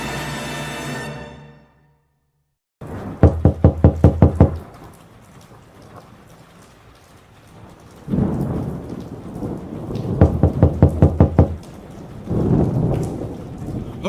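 Rapid knocking on a door comes in two quick bursts of about six raps each, loud and close, with a low room rumble and a rain-like hiss in between.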